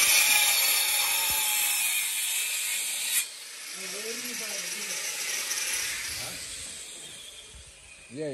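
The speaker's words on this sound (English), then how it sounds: "you have to use this grinding machine here" A grinding machine runs at a construction site in Brufut, Ghana Town, giving a loud, steady high-pitched whine that drops after about three seconds into a rougher mechanical hum, with some speech in the background.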